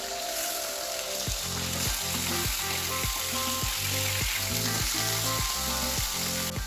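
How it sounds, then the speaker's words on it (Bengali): Pomfret fish frying in mustard oil gives a loud, continuous close sizzle that stays dense and steady throughout, with a faint repeating tonal pattern underneath. "মাছগুলো ভাজা হোক"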